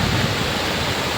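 Water rushes into a freshly dug earthen channel, a steady broadband gushing roar, close and loud, with no voices.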